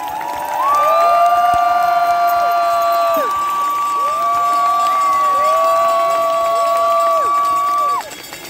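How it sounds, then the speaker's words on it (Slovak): Crowd at a 17 November commemoration rally in Bratislava applauding and cheering, a loud sustained roar with whistles and shouts, then trailing off at the end. "Poprosím veľký potlesk."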